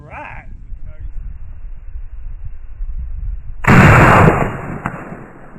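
A single sharp rifle shot from a 5.56 rifle loaded with Hornady Superformance ammunition during whitetail shot-placement testing, loud and close, coming after a few seconds of quieter background and a brief voice at the start.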